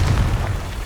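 A Confringo spell explosion in the video game Hogwarts Legacy, a short loud booming burst with a rumbling low end that fades within a second.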